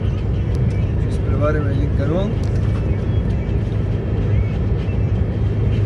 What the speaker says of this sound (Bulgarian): Ето сега ще изпреварим един камион.